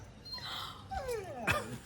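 A new puppy gives a few high, thin whimpers followed by a sharper yelp-like bark, close by in a quiet home during a family surprise for the girls.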